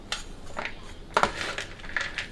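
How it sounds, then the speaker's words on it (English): Spoons fold and toss a broccoli and apple salad, giving a few soft clinks and scrapes at an irregular pace, close and fairly quiet, with no talking. "Now I'm going to take my spoons and I'm going to fold them all together and mix them."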